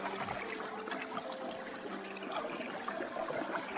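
Water flowing down a gold-prospecting sluice box lined with a silicone rubber mat, a faint, steady trickling and gurgling stream with no voices.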